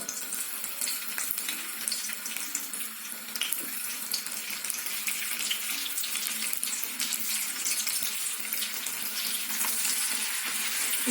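Boureks stuffed with shrimp or chicken frying in hot oil, a steady, dense crackling sizzle that holds at an even level throughout with no talking.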